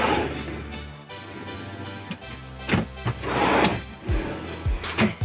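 Drawers in a cruise ship cabin slide open and shut with wooden thunks and scraping rolls, several in quick succession close to the listener.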